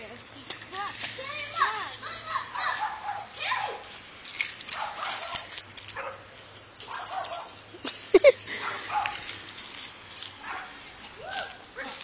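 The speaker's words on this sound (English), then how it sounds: "there's this yappy dog across the street" A small yappy dog gives short, high yips and whimpers across a residential street amid children playing and chattering nearby, the dog's calls scattered and partly buried under the kids' voices.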